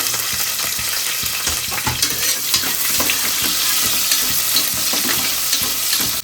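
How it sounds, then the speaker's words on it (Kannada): Onions and vegetables frying in ghee for a vegetable pulao, a loud, continuous close sizzle with repeated scraping stir strokes of a spoon in the pan, no voices. "ಇದೆಲ್ಲ ಸ್ವಲ್ಪ ಗೋಲ್ಡನ್ ಬ್ರೌನಿಶ್ ಆಗೋ ತನಕ ಫ್ರೈ ಮಾಡ್ಕೊಳ್ಳಿ."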